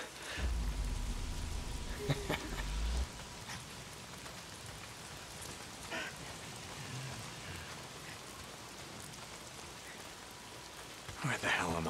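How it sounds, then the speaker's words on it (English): Steady rain falls in the video game Days Gone, a soft continuous patter with a low rumble early on and a few brief louder sounds, heard alone at low level. "It's the goddamn rain."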